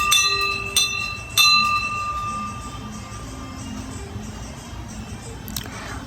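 A temple bell rings clearly three times in quick succession, each strike leaving a bright ringing tone, followed by a fainter metallic clang near the end over steady background noise.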